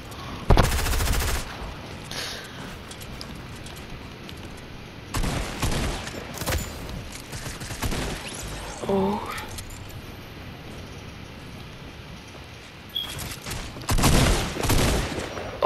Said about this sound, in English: Oh, I got a shotgun now.